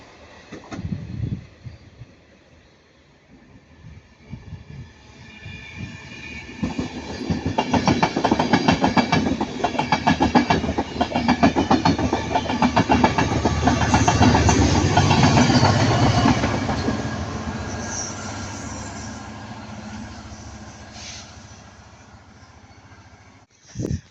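Train 158812 passes at Ardwick, leading 158846: a rumbling, clattering run that builds from quiet to loud, holds with rhythmic clickety-clack of wheels over rail joints, then fades away.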